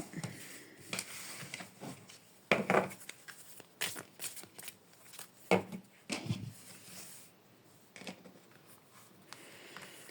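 Tarot cards being cut and drawn from the deck, with soft papery shuffling, sliding and light tapping on a table in several short bursts, close and fairly quiet, with no talk over them.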